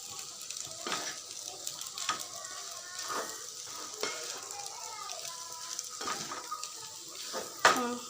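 Veg chowmein noodles hiss and sizzle in a hot pan while a utensil stirs and scrapes them, with repeated clinks against the metal and an occasional louder clatter near the end, close up and without speech.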